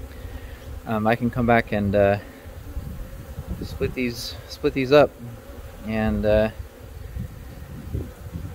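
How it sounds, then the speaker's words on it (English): Honey bees buzz steadily around their hives in May, a dense insect drone that runs throughout while someone talks nearby in short bursts. "see if I can cool these bees off"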